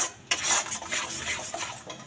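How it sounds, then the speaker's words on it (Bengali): A spoon stirs blended mango pulp through hot ghee in a pan, a few close metallic scrapes and clinks against the pan over a soft sizzle, with no talking. "গরম ঘিয়ের মধ্যে যে আমটাকে আমি মেশিনে ব্লেন্ড করে রেখেছি সেটা দিয়ে দিলাম। এবার এই আমের মিশ্রণটাকে খুব ভালো করে নাড়তে হবে।"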